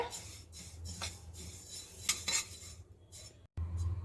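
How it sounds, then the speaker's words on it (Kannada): White sesame seeds being heated in a dry pan for tambittu laddu, giving light crackles and scraping stirs in scattered bursts over a low steady hum, with a brief drop to silence near the end. "ಈಗ ಎಳ್ಳು ಚೆನ್ನಾಗಿ ಬಿಸಿಯಾಗಿದೆ ಸೌಂಡ್ ಬರ್ತಾ ಇದೆ ಪಟಪಟ ಅಂತ"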